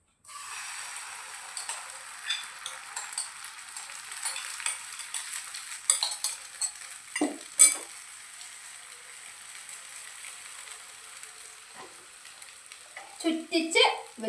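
An omelette fries in coconut oil in a hot pan, giving a continuous soft sizzle with scattered clinks and scrapes of a utensil, nearby and fairly quiet, ending in a few louder clatters.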